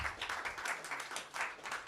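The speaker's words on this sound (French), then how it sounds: "Il faut les applaudir" Quiet, fairly distant audience applause at a conference after speakers are introduced, sounding as a soft ripple of clapping that swells and fades in uneven waves.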